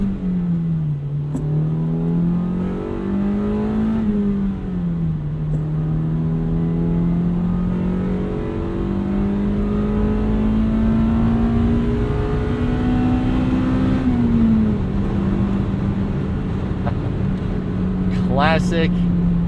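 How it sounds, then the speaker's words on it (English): A classic Honda VTEC engine, from an EM1 Civic Si or Acura Integra GSR, drones steadily under constant loud cabin noise, its pitch gently wavering through gear changes before rising near the end, with someone talking over it throughout. "That was the noise that sold the internet on Hondas. VTEC just kicked in, yo."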